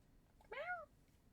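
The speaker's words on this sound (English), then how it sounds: "That's my cat, by the way." A pet cat gives a single clear meow, rising then falling, close by against quiet room background during a gaming livestream.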